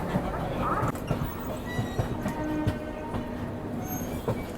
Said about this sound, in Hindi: हावड़ा बीकानेर खड़ी हुई है सामने भाई, हावड़ा के WAP7 लोकोमोटिव के साथ में।